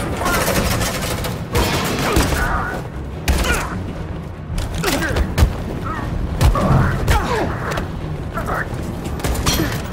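Gunfire in Detroit: Become Human, with repeated booming shots and thuds under shouted voices, mechanical clanks and creaks woven through a loud, dense battle scene.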